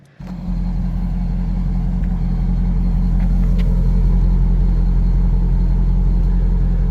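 A warmed-up Chevrolet Corvette ZR1 engine kicks in after a brief moment of quiet and settles into a loud, steady, deep rumbling idle that holds for the rest of the stretch, close and unbroken.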